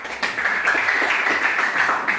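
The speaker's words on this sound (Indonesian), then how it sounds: "Ya, tepuk tangan dulu" A seventh-grade class claps for a student group after its presentation, a quick stream of close, sharp hand claps that stays busy and even from start to finish, with no talk over it.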